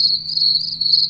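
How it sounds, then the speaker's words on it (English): Recorded cricket chirping sound played from a Windows Phone app, a dense continuous high trill with rapid pulsing, loud and clear without any talking. "now let's click crickets"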